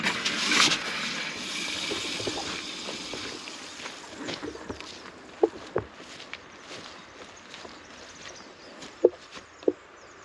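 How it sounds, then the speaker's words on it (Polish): Water runs steadily from an opened shower tap in a house supplied by a pressure pump, a diffuse hiss throughout with occasional sharp clicks and knocks over it. "Poczekajcie, odkręcę tutaj w prysznicu."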